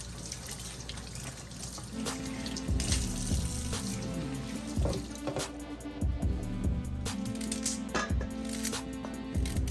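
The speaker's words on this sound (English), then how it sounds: "Wash off the seasoning." Tap water runs steadily into a sink as seasoned meat is washed by hand, a continuous splashing hiss broken by occasional knocks and clinks of the meat and container, close and moderately loud with no talking.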